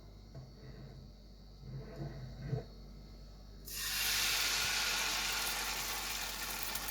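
Crêpe-style pancake batter for Berber mkhanfar, ladled into a hot ungreased pan, breaks into a loud steady sizzling hiss that starts suddenly and holds close and even.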